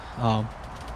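A single short coo from a Birmingham Roller pigeon inside a loft, close and soft, over light background noise.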